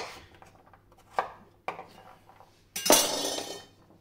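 Kitchen knife cutting raw butternut squash into cubes: several sharp, separate chops and thuds against a board, close and fairly loud, the last stroke longer and scraping.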